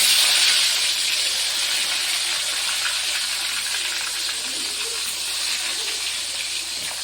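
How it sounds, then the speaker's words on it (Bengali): Pointed gourd (potol) frying in a pan gives a steady, close sizzling hiss that stays fairly even throughout, with no talking. "আমি পটলগুলো ভেজে নেব।"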